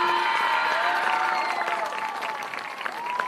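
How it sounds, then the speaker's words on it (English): Football game crowd in the stands at halftime applauding the 2025 homecoming court, a broad, distant spread of clapping and cheering with sustained tones from a marching band underneath. "please give a huge round of applause for our 2025 homecoming court"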